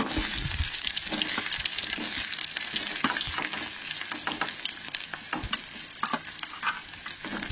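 Chillies frying in hot oil in a pan for a Goan mud crab curry, a continuous close crackling sizzle with scattered sharp pops, steady and loud with no voices.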